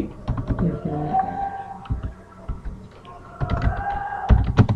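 Typing on a computer keyboard while filling in a salary sheet in MS Excel, with clustered key taps and short pauses between bursts, close and fairly loud, with a faint hum underneath.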